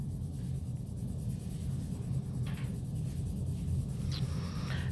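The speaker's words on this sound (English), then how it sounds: "Pushing a little harder on my pencil." Graphite pencil shading on paper with steady, continuous scratchy strokes, growing firmer as more pressure is applied, close and fairly quiet with no talking.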